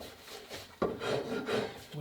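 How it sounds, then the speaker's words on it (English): A rasp files a wooden shotgun stock during restoration, producing soft, repeated scraping strokes of about half a second each, close and fairly quiet, with one sharper knock near the middle. "We want to make sure we keep moving the rasp, trying to avoid flat spots."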